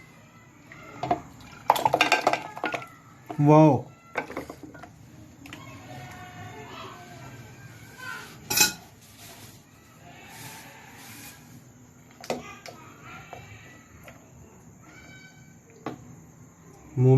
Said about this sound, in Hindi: ये देखें मैं बर्तन में डाल रहा हूँ।